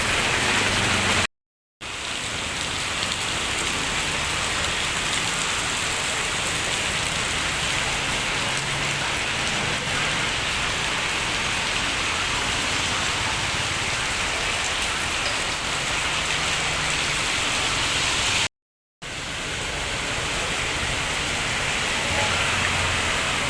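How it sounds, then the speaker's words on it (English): Steady heavy rain falling on surfaces in Phnom Penh, Cambodia, a dense even hiss that continues without a break, with two brief silent gaps. "enjoy the rain falling down in the Phnom Penh capital"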